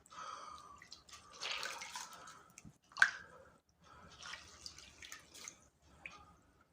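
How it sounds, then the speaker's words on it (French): A washcloth is rinsed in water to clear handmade natural soap from it, making close splashing, dripping and squishing sounds in uneven bursts with short pauses between them, and no talk. "on va rincer le gant de toilette pour pas avoir le même savon dessus."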